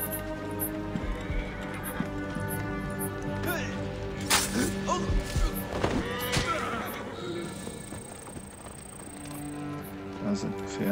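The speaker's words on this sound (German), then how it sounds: "Da sind Pferde." Horses in the video game Assassin's Creed Origins whinny and neigh several times over a bed of game ambience and hoof clatter, moderately loud, with a voice talking in places.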